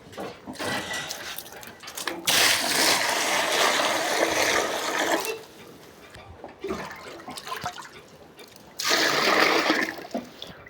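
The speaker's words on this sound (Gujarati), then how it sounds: "તો આપણે પાણી નાખી દઈએ પેલા." Water gushes into a tank in loud, close bursts of rushing and splashing, pausing briefly between pours before surging again.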